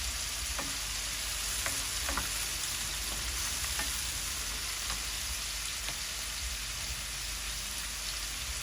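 Radish and prawns fry in a pan, a soft continuous sizzle with occasional light scraping clicks from stirring, quiet and steady, with no voices.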